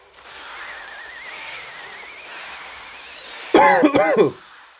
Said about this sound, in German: Das geht mir so auf den Sack, dieses Husten